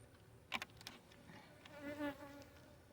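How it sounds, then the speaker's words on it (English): A handful of honeybees in a nucleus hive in South Louisiana during winter give off faint, wavering buzzing that swells and fades over a few seconds, with no one speaking. "There's bees in here, but there's not many."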